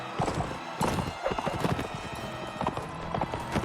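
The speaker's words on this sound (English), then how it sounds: "I feel this is a slower horse than I've had in the previous attempt." Horse hooves clip-clop at a gallop in the Mount and Blade Warband video game, a steady rapid pounding with brief whinnies, fairly loud and close with no talk over it.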